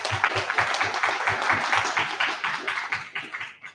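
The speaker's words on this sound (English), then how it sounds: "give big thanks, applause to Oleksandra again" Audience applause after a talk at a Scala programming meetup in Kyiv, a small crowd clapping with a few distinct, rhythmic claps standing out, fairly quiet and fading toward the end.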